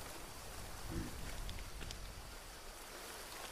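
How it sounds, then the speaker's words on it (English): Rain falls in the jungle survival game Green Hell as a faint, steady, hissing wash with no distinct drops standing out. "It's raining again,"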